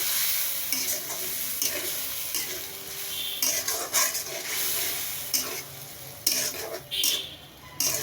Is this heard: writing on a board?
no